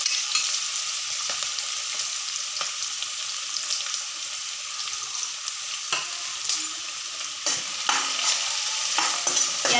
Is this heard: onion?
yes